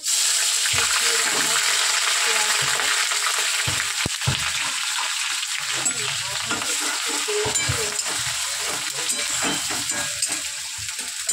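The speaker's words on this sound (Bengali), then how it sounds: "তেল গরম হয়ে গেছে, আমি জিরে ফোড়ন দিয়ে দিলাম।" Cumin seeds sizzle in hot oil in a continuous, close crackling fry, with occasional stirring scrapes and small knocks throughout.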